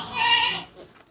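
A Punjabi-breed goat gives one loud, close, wavering bleat lasting about half a second, followed by quieter background sounds and a brief voice near the end.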